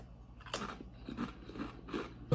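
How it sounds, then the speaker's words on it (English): Several sharp, crisp crunches in an irregular rhythm, like someone biting into and chewing Lay's Hot n Sweet Chili potato chips close to the mic, with no talking. "And did you hear that crunch?"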